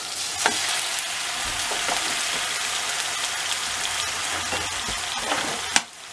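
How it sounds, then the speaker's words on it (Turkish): Pide dipped in bone broth frying in a pan, a dense continuous sizzle with a few sharp pops and crackles, close and steady with no talk. "pideyi kemik suyuna bandırıyoruz, şöyle süzdürüyoruz ve tavaya atıyoruz"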